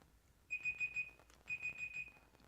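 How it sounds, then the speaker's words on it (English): Council meeting five-minute timer alarm beeping in two bursts of rapid four-beep chirps, fairly faint over a quiet room with soft background noise. "It's the 5-minute timer."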